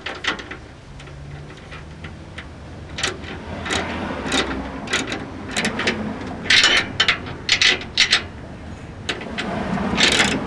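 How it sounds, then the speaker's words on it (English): Socket wrench ratchet tightening a nut on a Ford F-150 bull bar near the bumper, bursts of sharp clicking over low background rumble, growing denser toward the end. "the first nut closest to the bumper with your socket wrench."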